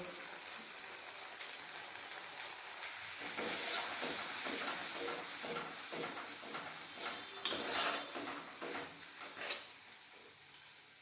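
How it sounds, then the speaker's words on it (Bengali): Spice paste of turmeric and coriander powder with water frying in a pan for a banana kofta curry, a steady sizzle with repeated scraping stir strokes, louder bursts toward the end, no voices. "জল দিয়ে মশলা ভেজে নেবো"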